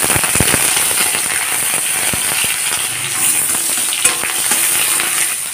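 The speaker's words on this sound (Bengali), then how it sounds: "এখন দিয়ে দেব শুকনো লঙ্কা ফোড়ন, আর দিয়ে দেব কুচানো পেঁয়াজ আর রসুন।" Dried red chili, chopped onion and garlic hit hot mustard oil over spluttering mustard seeds, giving a loud, close crackling sizzle with sharp popping bursts and occasional stirring clicks.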